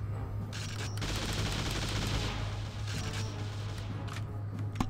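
Pistol gunfire in the TimeSplitters Future Perfect video game: a steady stream of sharp shots mixed into a busy, continuous backdrop of game noise, with a low constant hum beneath.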